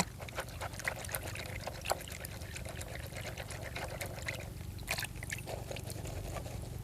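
Caladium tubers rinsed under plain water, a steady running trickle and pour with small splashes and faint handling noises, close and moderately quiet.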